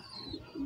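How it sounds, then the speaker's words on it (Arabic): Domestic pigeons cooing in an enclosure, two soft low throaty coos close by, faint with a quiet background hum. "شوفوا ده حمام بقاله فتره مطار"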